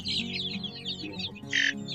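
Chicks around two to three weeks old chirping in a brooding pen, rapid overlapping high peeps from several birds close by, with one louder call near the end.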